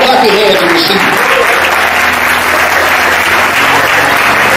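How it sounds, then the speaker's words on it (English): A church congregation at Greater St James COGIC claps to welcome a woman guest, dense steady applause filling the room, with voices speaking and calling out over it. "Come on, clap your hands and receive her."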